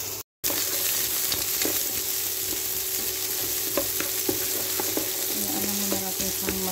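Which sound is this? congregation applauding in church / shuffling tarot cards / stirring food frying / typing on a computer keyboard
stirring food frying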